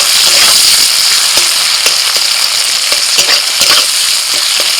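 Chopped onion dropped into hot mustard oil and caramelized sugar in a wok, a loud, dense sizzle with sharp crackles and stirring scrapes, close and continuous.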